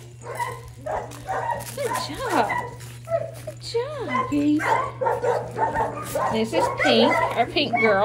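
Dogs bark and whine excitedly in the background while someone talks over them, with a steady low hum throughout.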